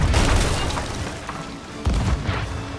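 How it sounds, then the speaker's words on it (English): Cannonballs slam into a wooden sloop during a Sea of Thieves naval fight, two heavy booming impacts with rumbling decay, loud and close, with no talk. "bombarding the wooden exterior of my sloop with cannon fire"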